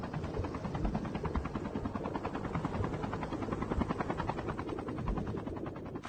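A steady, loud helicopter rotor thrum in Call of Duty Mobile Battle Royale, with rapid chopping blade beats, continuous throughout with no voices.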